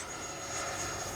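A Freewing F-14A Twin 64 Tomcat RC jet with twin 64 mm electric ducted fans flies past with a steady, high whooshing whine.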